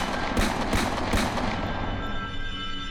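A rapid burst of several gunshots rings out close and loud in a reverberant outdoor space, the shots coming in quick irregular succession before trailing off into a fading echo.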